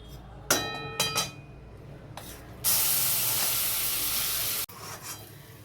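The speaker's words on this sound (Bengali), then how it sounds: "এবারে ডাল বাটা আর মোচা বাটাটাকে এটাতে দিয়ে শুকোবো।" A wet paste of ground lentils and banana flower hits hot refined oil in a wok, bursting into a loud, steady sizzle after a few clinks of a utensil, then stopping abruptly.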